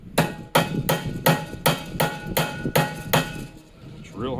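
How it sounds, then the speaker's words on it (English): A steel bearing is hammered into a rotor arm during a rebuild, giving nine sharp, evenly spaced metallic strikes, loud and close, each ringing briefly before the next blow, followed by a faint trailing clatter. "Otherwise, the bearing, it turns in there as I'm hammering on it."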